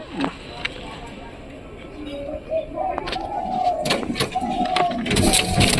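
A pigeon coos softly at close range in several low, rolling calls, mixed with wing flutters, scuffs and a person talking.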